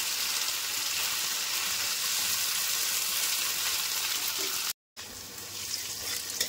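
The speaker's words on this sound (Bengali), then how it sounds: "চুনো মাছ বসিয়ে দিয়েছি" Small fish frying in a pan with oil, a steady loud sizzle that runs almost the whole time, cut by a brief gap of silence near the end before the sizzling resumes.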